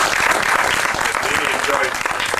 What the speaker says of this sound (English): I think now we deserve a round of applause.